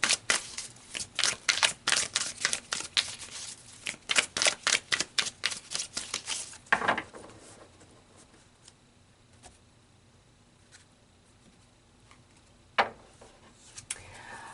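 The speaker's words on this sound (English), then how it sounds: "let's pull some oracle cards" Oracle cards being shuffled: about six seconds of rapid, evenly spaced crisp card clicks, then quiet with two isolated soft slaps as cards are pulled, close by with no talking.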